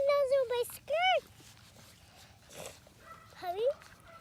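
Puppy whimpering in high, wavering whines, three or four separate cries with quiet gaps between them, close by and fairly soft.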